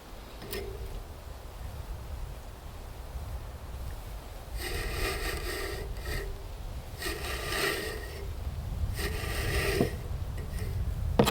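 Flax strands being drawn through a comb to straighten them into line flax, heard as three or four rasping, scratchy combing strokes of a second or so each, close and fairly quiet against a soft background hiss.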